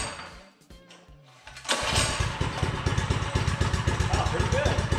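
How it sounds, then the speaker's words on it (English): A mini bike engine assembled from spare parts starts up after quiet setup sounds, catching abruptly and settling into a loud, steady, rapid putter close by. "Let's see if it fires up."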